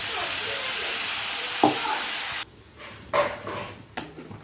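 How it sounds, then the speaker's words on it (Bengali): Black cumin seeds and pointed gourd paste hit hot oil in a wok, a loud broad sizzle that cuts off abruptly, followed by quieter stirring scrapes and a couple of short bursts of frying. "কড়াইতে তেল দিয়ে দিয়েছি, এবার কালো জিরে ফোড়ন দিয়ে আর এই পেস্টটা দিয়ে দেবো।"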